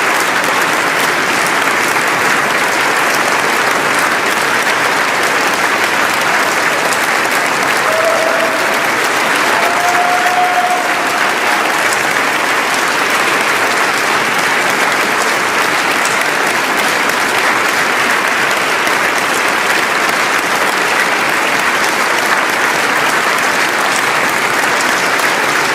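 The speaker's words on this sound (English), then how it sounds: "And the applause continues." Loud, sustained applause fills the hall at the Nobel Peace Prize ceremony, a dense unbroken clapping from a large audience that carries on without pause.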